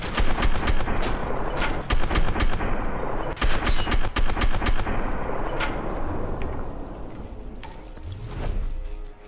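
Rapid, loud gunfire from shooting enemies in the first-person shooter game Fear 3, with dense bursts of automatic fire and sharp individual shots running continuously through a noisy combat mix.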